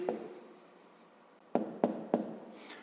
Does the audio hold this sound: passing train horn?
no